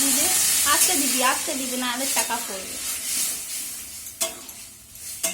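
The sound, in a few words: tadka being stirred and sizzling in pan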